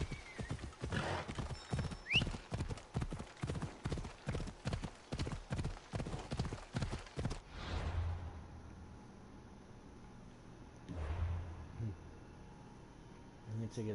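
A horse in a video game gallops with fast rhythmic hoofbeats and gives a whinny, then slows and stops, leaving quiet rumbling; a voice speaks briefly.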